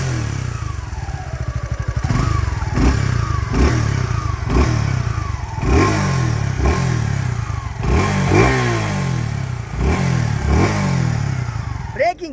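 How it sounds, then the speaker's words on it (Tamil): A Suzuki V-Strom SX250 motorcycle's exhaust note, loud and close, revving repeatedly in short throttle blips with a steady idle between, while someone talks over it. "இந்த பைக்கோடைய எக்ஸாஸ்ட் சவுண்டை நீங்கள் நல்லா கேளுங்க"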